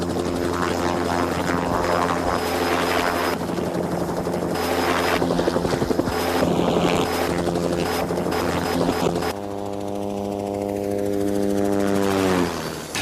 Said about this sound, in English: This is the machine I fly, a helicopter.